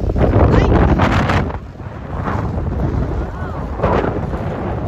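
Wind gusting across a long Tibetan suspension bridge at Sellano in the rain, buffeting the microphone in loud rushing bursts that ease and swell again, no clear speech.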